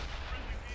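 A tank cannon firing in World of Tanks on console, a single heavy burst that fills the whole short moment with a dense, booming low-end blast.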